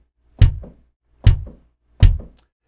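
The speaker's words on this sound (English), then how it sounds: "The bass drum is a lower sounding sound, and I'm just going to play on the keyboard." Three separate deep bass drum hits played on a keyboard, each a punchy low thump with a short decay, evenly spaced with silence between them.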